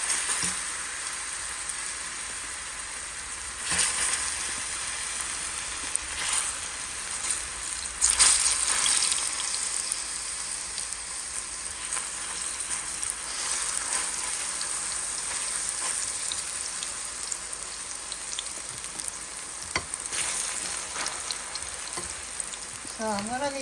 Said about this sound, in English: before I cook my fish, I am gonna fry some red plantain